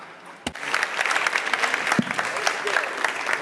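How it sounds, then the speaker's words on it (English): Audience applause after a talk on artificial intelligence and sustainable development: brisk, even clapping from a crowd, moderately loud, with a couple of sharp nearby claps standing out early on. "Big round of applause."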